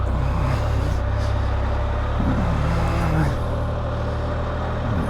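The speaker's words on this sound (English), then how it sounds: "wait for the UPS truck." A UPS delivery truck idles in traffic with a loud, steady low engine rumble, heard from close by in a moving vehicle along with road noise and brief voices.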